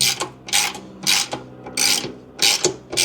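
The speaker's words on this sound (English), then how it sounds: "I'll come in with my torque wrench and I will torque it down to verify that it's good to go." A torque wrench ratchets as it tightens a fog light bolt on a Jeep Wrangler JL, with five close, loud, rhythmic bursts of clicking separated by short pauses.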